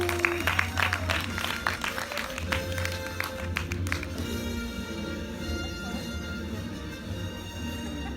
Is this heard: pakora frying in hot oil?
no